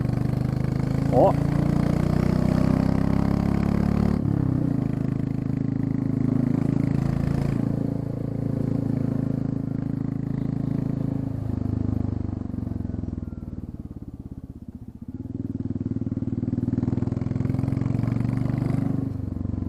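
A Royal Enfield Classic 350 motorcycle with the exhaust tip removed idles with a deep, loud, thumping rumble, its level swelling and dipping as the throttle changes, with a voice heard faintly over it.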